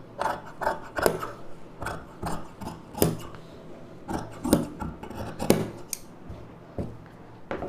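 Scissors cut lining fabric for a baby frock in a steady series of crisp, close snips and rasping blade strokes, about a dozen cuts with short pauses between them and no talking.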